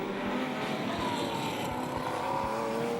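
Race cars, including a Trans Africa Racing Chevron, roar around Dezzi Raceway in a continuous engine drone with rising and falling revs, with no talk over it.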